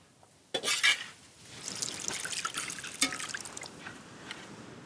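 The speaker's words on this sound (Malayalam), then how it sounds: "ഇതാ പുളിവെള്ളം ഒഴിച്ചോ മതി." Tamarind water is poured into a pot of beetroot rasam, a brief clatter of kitchenware followed by a close, steady liquid trickle and splash lasting a few seconds.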